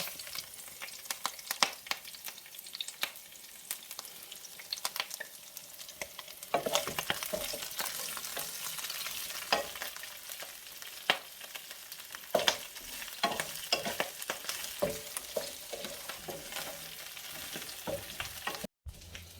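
Broccoli and beef stir-fry sizzles in a frying pan as it is stirred, with scattered scraping clicks of the utensil against the pan over a steady, moderately quiet hiss.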